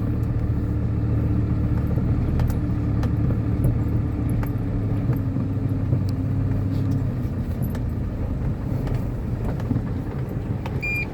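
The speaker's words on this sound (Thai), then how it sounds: "อ้าว เทเลอมา เอารถไถบ่" A trailer truck rumbles to a stop to collect a long-parked Ford tractor, its diesel idle a steady low drone close by, with faint clinks and knocks over it and the engine note dropping near the end.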